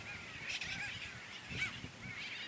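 Gulls call over a nesting cay with shrubby vegetation, letting out several short, nasal honking cries at moderate distance against a soft background hiss.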